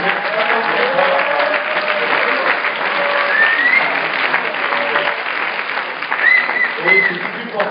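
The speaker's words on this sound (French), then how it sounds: "on peut déjà tous les applaudir bien fort" Audience applause rings out for the 18 startup projects just pitched at a weekend startup event in Lausanne, steady and lively throughout, with some voices and cheers mixed in.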